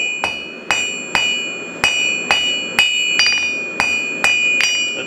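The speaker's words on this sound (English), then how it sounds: "when we're hitting the top, the anvil's hitting the bottom" Blacksmith's hammer striking metal stock on an anvil, about ten sharp ringing blows in a steady rhythm, each with a bright metallic ring that decays before the next, close and loud with no talk.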